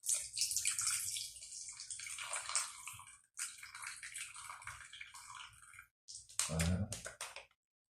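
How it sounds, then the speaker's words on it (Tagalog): Pineapple tidbit syrup pours steadily for several seconds, pauses briefly, then resumes with a short, louder splashing gurgle before stopping. "Siyempre yung sabaw ng pineapple tidbits."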